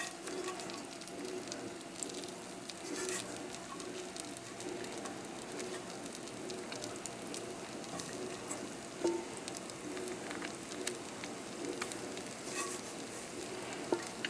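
Floured boneless chicken thighs frying in butter in a pan, a steady soft sizzle and crackle with small pops, heard close but quiet and continuous for the whole stretch.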